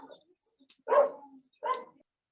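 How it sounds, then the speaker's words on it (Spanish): A small dog comes over an open microphone during an online class with two or three short, fairly faint yips and barks, separated by brief silences. "Hay alguien que tiene su micrófono prendido y un perrito ladrando."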